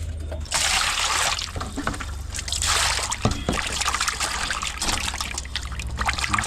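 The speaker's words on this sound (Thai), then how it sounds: "ไปล้างชิ้นหมูก่อน ล้างชิ้นหมูไว้นี่" Tap water runs and trickles steadily while pieces of pork are rinsed, a continuous splashy flow close by with small shifts in intensity as the meat is moved under the stream.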